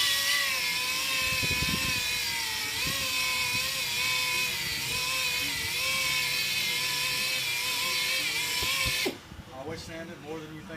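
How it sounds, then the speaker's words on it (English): A power sander works on a plastic car headlight lens during restoration, giving a loud, steady whining drone that runs continuously for about nine seconds before cutting off abruptly near the end. "I sand it down and sand the rest of it with the second one"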